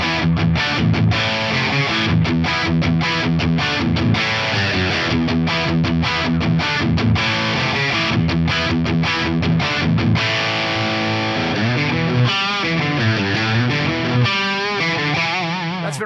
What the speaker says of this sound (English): I like using a crunchy amp like the JCM 800 as the starting point